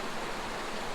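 Creek water flows in a steady, broadband rush with no breaks. It sounds soft and moderately distant, with no voices.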